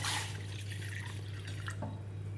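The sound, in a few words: pouring a glass of water into a vessel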